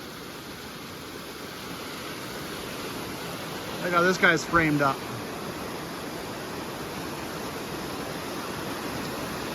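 Creek water rushes steadily along the Brazeau Loop in Jasper National Park, a broad, even hiss of flow that holds from start to end, with someone speaking briefly over it partway through.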